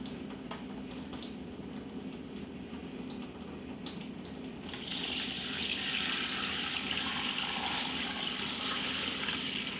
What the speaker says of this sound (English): Now I'm going to strain this a bit more.